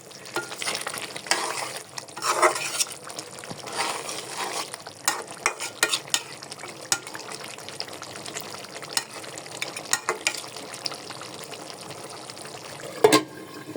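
Chicken bhuna khichuri frying and being stirred in a pot with ground cumin, cardamom and chili pastes, a steady close sizzle broken by irregular scraping stirs and a sharp clatter near the end, with no talk.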